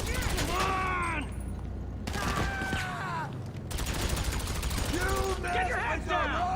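Bursts of rapid video game gunfire, loud and sustained, mixed with excited shouting from players.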